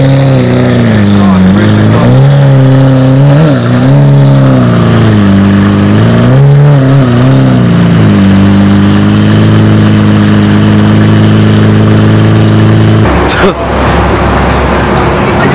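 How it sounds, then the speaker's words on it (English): A showroom car fitted with a brand new race exhaust, its engine loud and close, repeatedly revving and falling back, then settling into a steady high idle, with a sudden sharp burst near the end. "they put a brand new race exhaust on it, so it sounds a lot more crazier"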